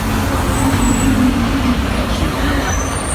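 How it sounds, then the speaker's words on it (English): A loud bus driving up a hill, its engine droning steadily and close throughout with a low rumble and road noise. "I realised that I probably will never be a dyer because that bus is loud."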